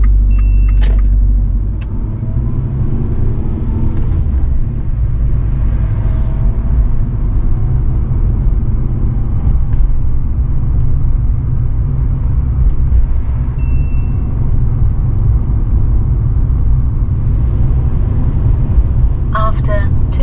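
A learner driver's car pulls away and cruises on a UK road, a loud, steady engine and road rumble filling the cabin, with a couple of brief dings and clicks near the start and end.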